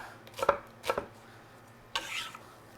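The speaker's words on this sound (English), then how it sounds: "So we'll just cut a little bit of that up." A knife chops an onion on a cutting board: three crisp, close strikes in a loose rhythm, with no talking.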